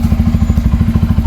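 A Bajaj Pulsar N250 with stock exhaust idles close by with a loud, steady, deep thumping exhaust beat, even pulses repeating several times a second.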